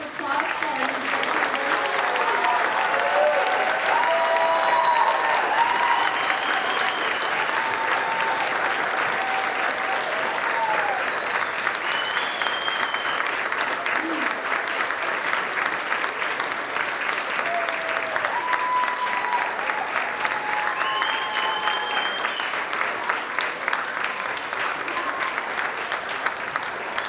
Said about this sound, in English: Let's give a round of applause for our new graduates.